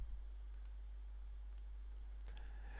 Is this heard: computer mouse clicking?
yes